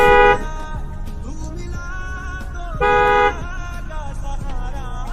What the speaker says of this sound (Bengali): সবাই মাফ করবেন হর্ন দিচ্ছি